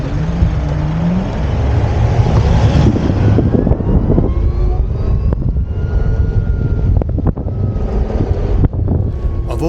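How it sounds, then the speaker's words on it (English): A 2022 BMW CE 04 electric scooter accelerates on a wintry day in Wollongong, its rising motor whine threading through heavy, continuous wind buffeting on the microphone. "This electric whine as I roll on the throttle is absolutely thrilling"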